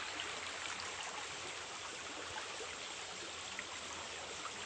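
Rain-fed water pours down from the hills through a village stream and waterfall, making an even, continuous babbling rush heard up close and alone.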